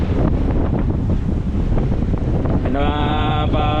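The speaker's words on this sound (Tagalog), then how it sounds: "Medyo malakas ang hangin." Strong wind buffets the microphone on the water in a steady, heavy roar, with a brief engine-like hum rising near the end.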